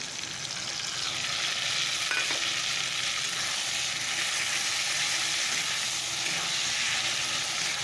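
Potatoes frying in hot oil as onion and garlic paste is added and stirred in a pan, giving a steady, close sizzle with faint stirring scrapes throughout and no talk.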